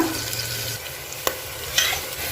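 Chopped onion and green chilli sizzle steadily in a pan, close and fairly loud, with a couple of sharp spatula knocks against the metal and no voices.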